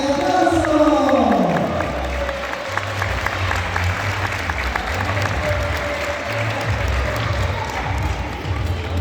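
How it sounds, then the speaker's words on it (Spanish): A loud crowd at a Spanish-language recognition ceremony for a local social and sports club claps and cheers continuously, with occasional whoops and a low rumble of movement throughout. "¡Fuerte aplauso!"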